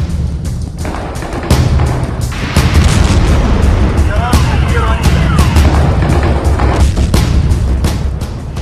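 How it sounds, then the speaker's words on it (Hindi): Several loud booming blasts from drone strikes on Kyiv go off one after another, each with a sharp crack and deep rumble, against a noisy background with faint voices. "कीव पर ऐसे कई धमाके हुए"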